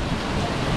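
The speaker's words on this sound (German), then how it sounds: "wir haben jetzt den Regen erwischt" Heavy tropical rain pours down in Singapore, a dense, steady wash of noise with no pauses across a very short stretch.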